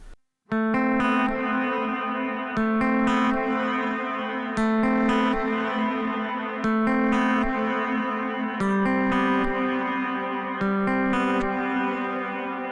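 Sustained guitar chords through a Neural DSP Archetype plugin's diffusion effect ring out smeared and washed, notes blending into a thick shimmering tail as new chords enter every couple of seconds.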